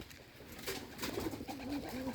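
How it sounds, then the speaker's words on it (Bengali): Pigeons of Bombay and local Bengali breeds coo softly close by, a few low, rolling coos in quick succession over quiet background noise. "এই দেখুন কবুতরগুলো মাড়ি খেতেছে, অনেক কবুতর"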